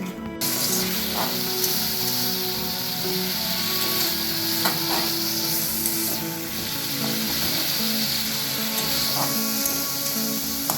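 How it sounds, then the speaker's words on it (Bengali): Tomatoes and spice paste frying in a pan, stirred with a metal spatula; a steady loud sizzle fills the scene with occasional scraping strokes. "টমেটোগুলোকে এইরকম খুন্তি দিয়ে একটু ঘেঁটে ঘেঁটে দিচ্ছি"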